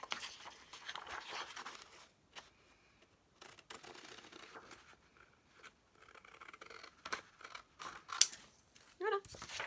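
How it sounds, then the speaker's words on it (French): Scissors cut through paper card for a coffee-themed handmade greeting card, giving close, crisp snips and rustles in irregular bursts with short pauses between cuts. "Donc là je vais venir couper au ciseau."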